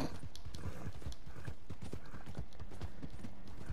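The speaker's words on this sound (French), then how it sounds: "ce con de cheval" Horse hooves clip-clopping in the video game Red Dead Online, a quick steady trotting rhythm of hoof strikes that continues throughout at moderate volume, with no talk.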